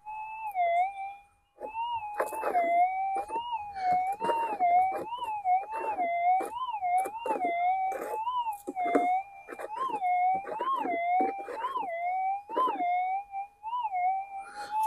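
A Minelab GPX-6000 metal detector sounds a soft, mellow warbling tone over a possible gold target, rising and falling in a steady wavering pattern while the coil sweeps, with scraping and knocks underneath.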